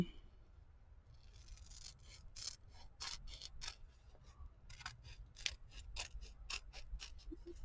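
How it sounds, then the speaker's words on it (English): Scissors snipping along strips of handmade washi tape, a quick series of crisp close cuts with short pauses between them, alone with no talking. "So let's see what we got when we trim it."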